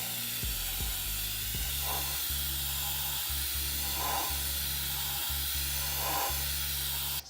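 A dual-action airbrush sprays thin paint onto a slick cup with a steady, close airy hiss, while low rhythmic thumps pulse underneath throughout.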